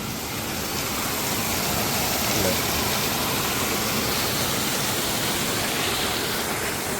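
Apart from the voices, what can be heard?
small waterfall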